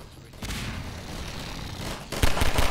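Gunfire rattles in Half-Life 2, a steady burst of close shots followed by a louder, sharper volley near the end.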